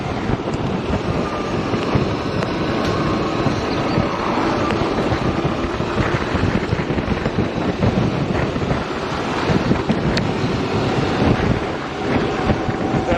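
Wind roaring over the microphone while riding a Zero electric motorcycle, a loud continuous buffeting rush with gusty rumble, steady throughout with no speech.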